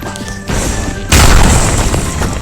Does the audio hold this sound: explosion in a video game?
yes